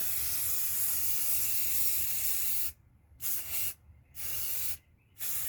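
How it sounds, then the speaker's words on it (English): Rust-Oleum satin white spray paint hisses from an aerosol can on a back porch, one long continuous spray followed by three shorter bursts with brief pauses between, close and steady. "I'm going to use this Rust-Oleum satin white, and I'm just going to lightly spray it"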